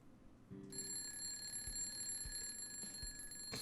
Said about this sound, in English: The sheer ringing my alarm clock made it impossible to ignore